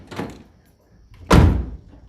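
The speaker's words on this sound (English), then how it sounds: "It closes. That door closes." Heavy door on a 1976 Chevy Vega GT swinging shut with a single solid, close thunk, preceded by a softer handling knock.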